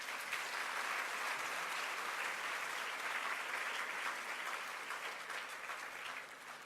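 A school audience applauds learners at a senior prizegiving, a dense, steady wash of clapping that holds loud and even for the whole stretch before easing slightly at the end.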